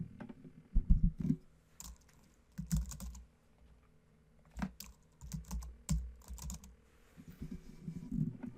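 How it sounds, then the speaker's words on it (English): Computer keyboard being typed on to enter a username and password, quiet close clatter of keystrokes in irregular bursts with brief pauses, no talking. "Now we type in our username and password."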